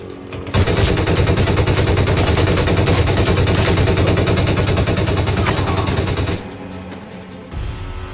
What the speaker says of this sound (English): Took a few shots, but I kept missing because the weapon does have a lot of recoil on it.